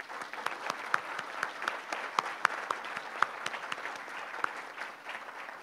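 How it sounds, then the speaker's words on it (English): Audience applause for the board members of CARE International, a steady wash of many hands clapping with a few sharper, louder claps standing out, sustained and even throughout. "I want to give them a big applause for being here and working with us"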